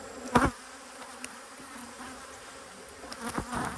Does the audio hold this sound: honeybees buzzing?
yes